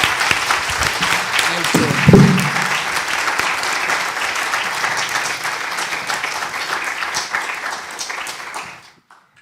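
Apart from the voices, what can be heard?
audience applause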